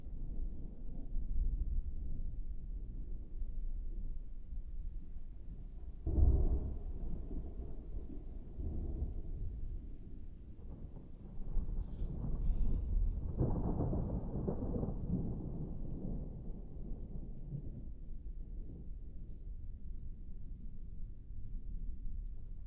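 Heavy rain pours steadily with deep rolling thunder, a sharp thunderclap near the start and further rumbles later, all loud and close under a dark storm cloud in northwestern Illinois.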